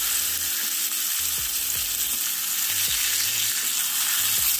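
Eggs frying in an Always Pan right after flipping give a loud, steady sizzle with a dense crackle, punctuated by regular low thumps and short knocks, with no talk.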